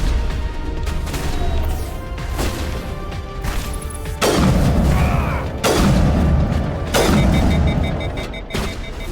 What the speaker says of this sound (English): Oh man, watch out for the rocket.